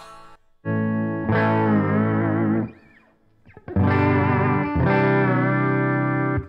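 Distorted electric guitar with a vibrato bar through a Boss Katana amp, sustained chords wavering in pitch with vibrato, a brief pause, then more heavy bending chords.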